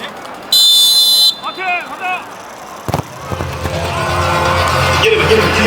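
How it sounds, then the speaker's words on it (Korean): At the ceremonial kickoff of a football match, a referee's whistle gives one long, loud, piercing blast. Voices follow, then a sharp bang and a swelling wash of crowd noise. "시축은 오늘 경기 중심에 휘슬 소리와 함께 출발하겠습니다."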